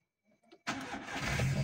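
A Volkswagen engine, started with a new flip key for a VW Golf, cranks after a few quiet faint handling clicks and catches into a loud, steady idle close by.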